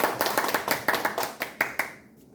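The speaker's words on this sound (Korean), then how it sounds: "큰 박수 부탁드리겠습니다" A seminar audience gives a short burst of clapping to welcome a professor presenting an action learning case study, the claps loose and uneven before stopping abruptly.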